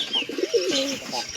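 Pigeons perched nearby give a soft, brief throaty coo, fairly quiet and close, with faint background chatter.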